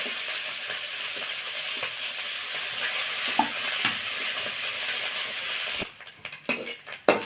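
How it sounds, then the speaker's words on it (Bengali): Small mourala fish frying lightly in hot mustard oil in a pan, giving a steady close sizzle with occasional stirring clinks, then quieting into sparse crackles near the end. "মাছটা খুব বেশি ভাজবো না খুব হালকা করেই ভাজবো"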